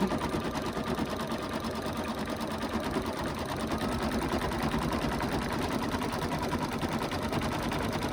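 Embroidery machine stitching at a fast, steady rhythmic rattle while pulling the fabric in, continuous and close for the whole stretch with no voices.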